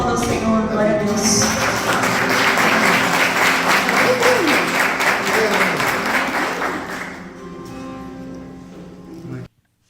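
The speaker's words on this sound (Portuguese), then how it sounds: "Aplauda o Senhor, glória a Deus." A church congregation gives sustained, dense applause that fills most of the stretch, then thins out and stops abruptly, with a few voices mixed in.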